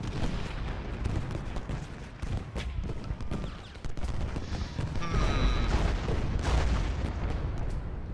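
Cannon and artillery fire rolls across an Ultimate General Gettysburg battle, a dense run of booming shots and crackling volleys that overlap continuously at steady loudness, with no one talking.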